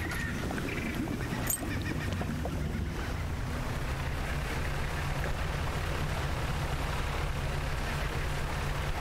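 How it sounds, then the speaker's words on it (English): Distant bird calls from the fishing game Dredge carry faintly over a steady low ambient drone, with a brief sharper call early on and no speech. "Damn bird is mocking me. I can hear it in the distance."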